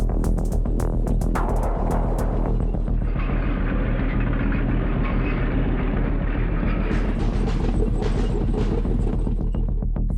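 Army tanks roar past at high speed during training, a loud continuous rumble of engines and tracks with rattling clanks, heavy and sustained throughout.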